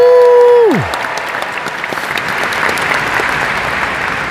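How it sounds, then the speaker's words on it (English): A tone slides down and cuts off, then a large crowd at a Disney D23 panel breaks into loud, sustained applause that fills the rest. "How about another round of applause for Bruce and all of our Disney legends?"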